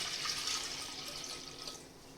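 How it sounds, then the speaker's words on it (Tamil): Water poured into a pan on the stove for cooking spinach, a steady splashing stream from a tap or vessel, close and continuous for a couple of seconds before tapering slightly. "கீரை கடையிறதுக்கு தேவையான தண்ணி ஊற்றிக்கலாம்"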